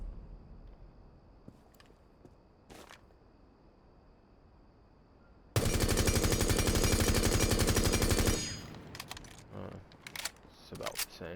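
Sledge's gun fitted with a muzzle brake in the Rainbow Six Siege shooting range, a loud sustained burst of rapid automatic fire lasting about three seconds, with a few sparse clicks before and after.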